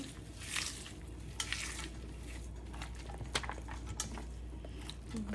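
Onions, tomatoes, coriander leaves and green chillies being added to two pomfret fish frying in a pan: a low sizzle under scattered scraping and clinking of a spoon against the pan, quiet and close.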